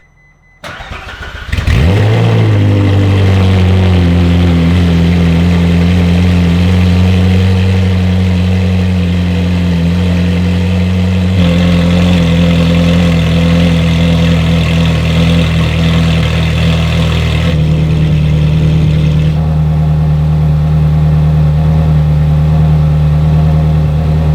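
A Ferrari 458 Italia V8 fitted with new Fabspeed headers cranks, fires and flares loudly before settling into a strong, steady, close-up idle that holds for about twenty seconds, with no talking.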